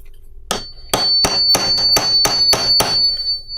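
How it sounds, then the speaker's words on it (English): Sharp metal hammer blows peening over a fastener stud, nine strikes at a quickening steady rhythm, each a bright clanging ring, close and loud with no voices. "we can come in and just hammer it until the stud stops rotating"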